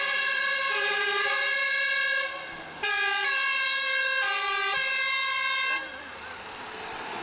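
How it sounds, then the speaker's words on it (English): An Austrian fire engine siren sounds loud and near, alternating two-tone horn blasts in a measured cadence with brief breaks, then fading somewhat at the end. "The cadence of that siren is really interesting to me."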